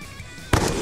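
A grenade explosion in the Free Fire video game, a single sudden loud blast bursting in halfway through after a low steady background, then ringing on to the end.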